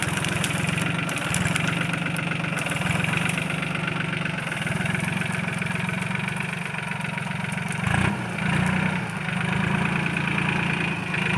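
A Swaraj 630 tractor engine runs steadily and loudly in a cotton field, a continuous low diesel drone with rhythmic knocking that barely changes throughout.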